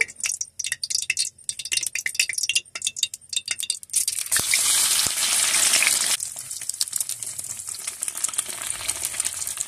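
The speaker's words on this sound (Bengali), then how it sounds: "তেলটা ভালো করে গরম হয়ে গিয়েছে। এখন আমি ডিম ভাপাগুলো ভেজে নেব।" Steamed egg pieces hit hot oil in a Bengali home kitchen, first a run of sharp ticks and clinks, then a sudden loud burst of bubbling sizzle that settles into a steadier, softer fry.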